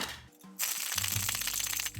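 Ice cubes, just three small ones, rattle in a cocktail shaker while a margarita is shaken: a brief knock, then a dense, continuous clatter of rapid rhythmic rattling that stays close and fairly loud for about a second and a half.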